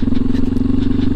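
A Yamaha Tricker motorcycle on a test ride after a spark plug change, its engine thrumming steadily and loud and close, with a rough pulsing idle and slight rattle running throughout.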